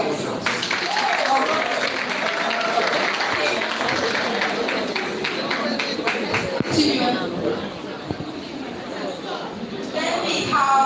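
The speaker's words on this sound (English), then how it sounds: "Clap for yourself." A group of people applauds in scattered, lively clapping that carries on for several seconds, mixed with chatter and voices.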